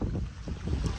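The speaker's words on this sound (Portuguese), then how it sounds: "Filma o vento, bambuzal." Wind blowing through a bamboo grove, a steady, loud rushing roar with buffeting against the microphone, continuous for the whole second with no voices.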